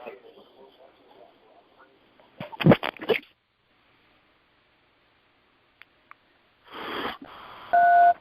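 A phone gives short electronic beeps near the end, a clipped steady tone after a burst of noise, following a few faint clicks and earlier quiet talk and rustling during a podcast-style call.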